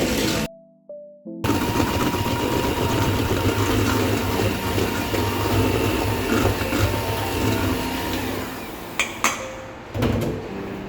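Electric mixer fitted with a balloon whisk whipping cream to stiff peaks for a mango raspberry mousse, a steady motor whir running continuously after a brief gap at the start, with a few clinks near the end.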